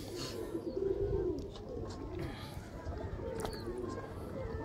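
Soft pigeon coos roll at low pitch amid a noisy backdrop, with faint talking and scattered chirps in the distance.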